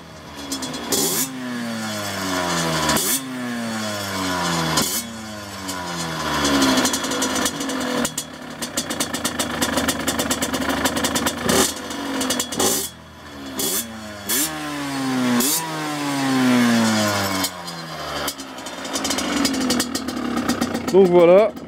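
A Gilera SMT 50cc motorcycle, a Derbi DRD Extrem, is revved repeatedly up close, its small two-stroke engine rising and falling in quick throttle blips between brief idling.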